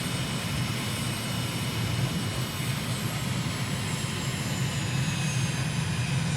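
A simulated aircraft cruises low over Dubai in Microsoft Flight Simulator, its engine giving a steady, even drone with a faint high whine on top, unbroken and without speech.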